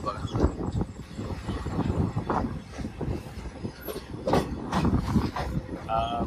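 A train rolls along on its journey with a continuous rumble and rattle of the carriages, broken by irregular clatter. Faint voices can be heard in the background.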